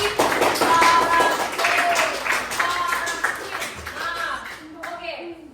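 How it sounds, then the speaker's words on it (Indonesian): Students clap in a classroom during a lesson, a rapid burst of hand claps mixed with lively voices and cheering. The clapping fades toward the end. "tepuk tangan untuk si"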